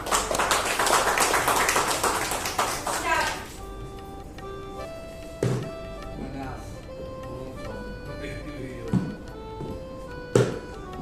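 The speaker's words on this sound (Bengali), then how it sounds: "জোরে একটা হাততালি হয়েছে।" An audience gives loud, dense clapping for about three seconds, then it quickly dies away into quiet broken by a few isolated sharp thuds.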